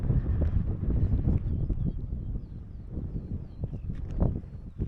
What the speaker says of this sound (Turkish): Tipi esiyor resmen. Yani rüzgar tipi rüzgarı gibi.